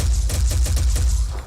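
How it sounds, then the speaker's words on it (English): Machine gun fire in the Phoenix Point strategy game: a rapid, loud burst of about eight closely spaced shots in quick rhythm over a low rumble, with no talking. "Use the world's least accurate machine gun."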